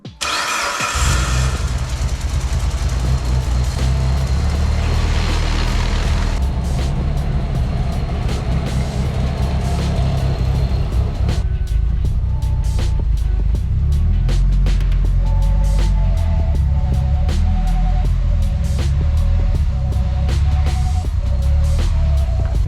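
A Mitsubishi Evo VIII starts and drives off around the block, a loud close engine start followed by a low rumbling idle and revving, then steady driving drone with shifting pitch and occasional clunks.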